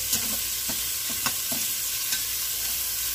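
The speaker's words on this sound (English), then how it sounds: "What you want to do is you just want to brown this a little bit. Sear it a little bit." Beef summer sausage sears in a hot pan with a continuous close sizzle, broken by occasional scraping stirs and light clicks.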